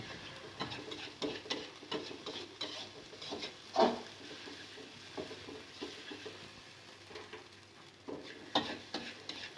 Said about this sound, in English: Mix all the spice until it become one.